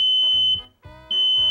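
A household smoke detector sounds a loud, steady high-pitched alarm tone that runs nearly throughout, briefly dipping, over low rhythmic background noise.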